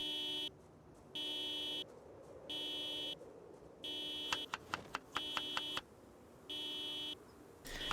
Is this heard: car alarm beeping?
yes